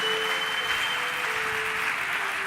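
A church congregation breaks into sustained applause during a sermon, a dense, steady wash of clapping that holds evenly throughout, with a faint tonal hum underneath.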